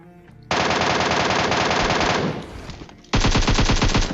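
Rapid automatic gunfire in a classic shooter game match, two loud sustained bursts of dense machine-gun fire, the first lasting about two seconds and tapering, then a short gap before a second burst resumes just as loud.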